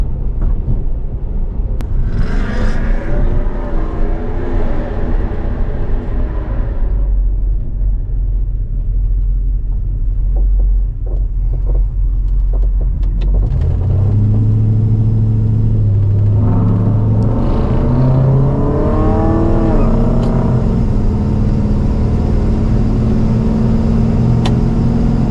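A 1970 Plymouth Fury drives over a rough, bumpy road, its engine rumbling steadily close by with an automatic transmission shifting, plus road and suspension noise throughout, no talking.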